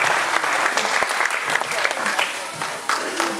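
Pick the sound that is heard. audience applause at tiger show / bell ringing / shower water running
audience applause at tiger show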